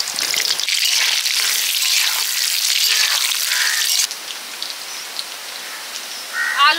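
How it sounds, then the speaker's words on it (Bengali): Potato pieces fry in hot mustard oil in a pot, a bright loud sizzling hiss that runs steadily, then drops sharply to a softer crackle partway through, with stormy cyclone weather outside. "আলু ভাজা হয়ে গেছে,"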